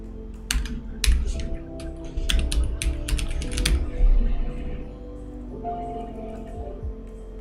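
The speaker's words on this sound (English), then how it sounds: "Is it a mechanical keyboard or a regular keyboard" Typing on a computer keyboard, with bursts of close, sharp key clicks in quick irregular runs, then quieter stretches with a low hum underneath and no speech.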